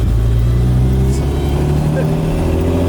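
Engine of a 1963 Maserati 3500 GT Sebring while driving, a loud, steady mid-pitched drone with low rumble, heard close from inside the car under someone talking.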